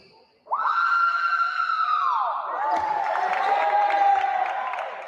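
Spectators at an FBA basketball game between the Volusia Serpents and Florida Flight at the Kia Center raise a sustained high-pitched shriek and crowd noise during free throws, starting suddenly and then shifting into mixed yelling that continues loudly for several seconds.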